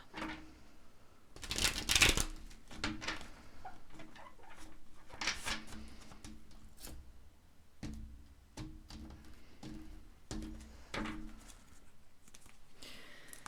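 Tarot cards being shuffled and pulled, with soft riffling bursts, papery flicks and light taps repeating irregularly, close and quiet, with no voices.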